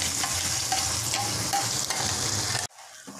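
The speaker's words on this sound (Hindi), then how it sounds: "इसको ग्रेवी को उसमें डाल दिया इसको फ्राई करेंगे" Malai kofta gravy frying in a few spoonfuls of oil in a pan on a gas stove, a loud close sizzle with stirring scrapes that cuts off abruptly to near quiet after a couple of seconds.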